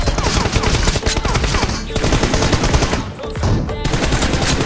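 Rapid automatic gunfire from an online multiplayer shooter, dense bursts of shots rattling almost without a break, with brief lulls before the firing picks up again.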